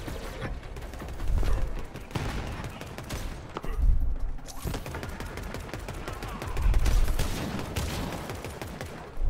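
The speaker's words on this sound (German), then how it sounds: "Schöner Headshot." Gunfire in the shooter Borderlands 3, steady crackling shots mixed with mechanical game noise at moderate volume, with several heavier swells of firing spread across the clip.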